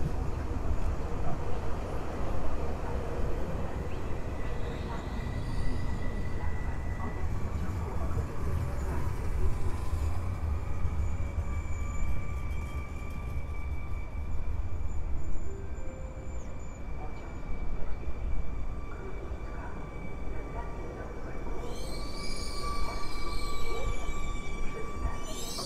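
A Koleje Mazowieckie Flirt electric train passes at Warszawa Wschodnia station, a long steady rumble with wheel noise and tonal hums, then a high squeal near the end, heard amid station ambience.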